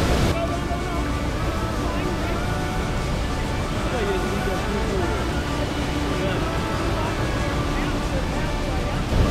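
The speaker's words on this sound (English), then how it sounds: "right here is the waterfall, and people just miss it" Danlong Waterfall, also called Double Dragon Waterfall, on the Maibalai River in Hsinchu, Taiwan, gives a steady, loud rush of falling water that fills the whole stretch without a break.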